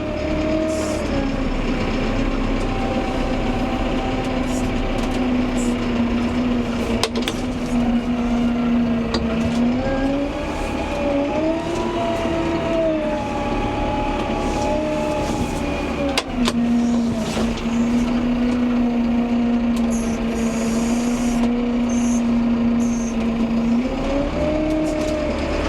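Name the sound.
Massey Ferguson 5M.125 tractor working on a muck heap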